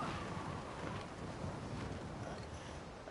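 Steady stormy roar of rain and rolling thunder over open sea in the pirate video game Skull and Bones, a dense continuous wash with no distinct breaks, ships caught in the storm in the distance.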